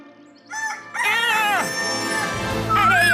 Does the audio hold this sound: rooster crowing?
yes